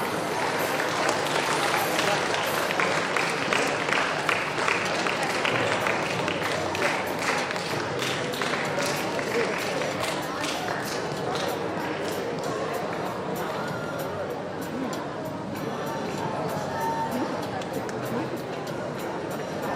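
Sustained applause from an audience at a school prize ceremony fills the whole stretch, dense and even, with crowd murmur mixed in and slowly easing in intensity.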